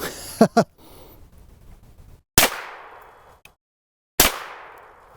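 Two loud suppressed gunshots from a Hi-Point long-barrel carbine fitted with an experimental .45 caliber suppressor, each a sharp bang with a ringing decay, spaced a couple of seconds apart after faint mechanical clicks.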